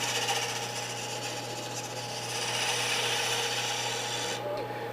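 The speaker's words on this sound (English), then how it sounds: "clean up those lines with a shear scraper" A shear scraper takes light nibbles off a wooden ornament spinning on a lathe, giving a steady, close scraping rasp over the constant hum of the lathe motor.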